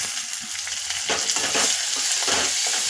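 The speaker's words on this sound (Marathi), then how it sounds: "टोमॅटो पण दोन मिनटं आपण यामध्ये परतून घेऊया" Onion and tomato frying in oil for a papad chutney, a loud close sizzle with rhythmic scraping and stirring bursts of the spatula against the pan.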